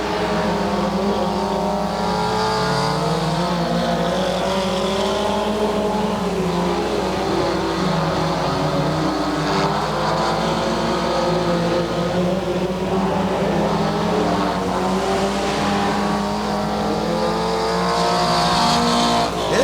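IMCA sprint cars race around a dirt oval at Ventura, California, their engines roaring loudly and continuously and rising and falling in pitch as they rev through the turns, a dense pack of motors heard close with no break.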